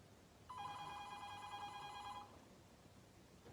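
Telephone bell ringing in one sustained trill of just under two seconds, fairly quiet against a faint room hiss, with no talk during the ring.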